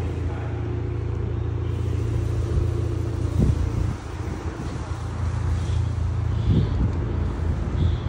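A BMW fitted with a 3-inch stainless steel exhaust idles with a deep, steady rumble outdoors in a yard, with a couple of short throttle blips rising above the drone; brief voices murmur faintly in the background.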